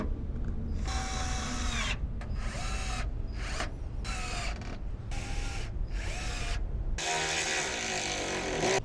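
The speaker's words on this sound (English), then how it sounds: "I'll screw these other ones back in." Power driver repeatedly spinning screws and a bolt into a truck bed while fitting a tailgate mat liner, several short whirring bursts with brief pauses between, close and loud, ending in a longer harsher run.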